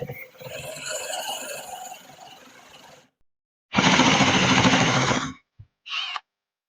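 A Crescent spade bit boring a half-inch-deep hole into wood for a tea light holder, heard as a loud grinding burst, then silence, then a second longer, louder drilling burst and a brief final spin.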